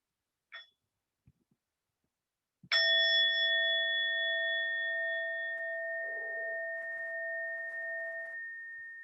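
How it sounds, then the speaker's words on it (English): One meditation bell struck once, ringing out clearly and sustaining a long, slowly fading tone after a few faint small knocks in a quiet room. "And we'll start with one sound of the bell."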